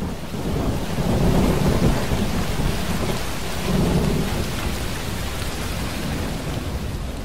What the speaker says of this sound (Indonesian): Hujan terus mengguyur seluruh ruas Mayapada.